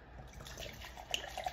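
A drink is poured from a Kake 23 Bad Boys bottle, a faint close trickle of liquid with small splashy drips rising toward the end.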